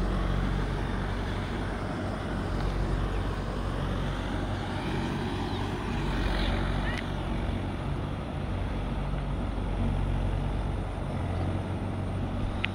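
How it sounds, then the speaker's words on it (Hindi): A Mahindra 575 4WD tractor pulls a rotavator through a field in first gear at 1500 RPM, giving a loud, continuous low engine drone with steady rumble and no pauses. "তো গাড়িটা তোমার চলছে 1 নম্বর মিডিয়ামে চলছে, আর তোমার 1500 RPM আছে।"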